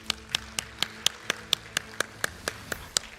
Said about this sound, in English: can we give our panel a nice warm round of applause?